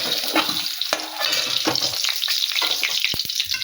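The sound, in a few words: fish (tengra) frying in oil in a wok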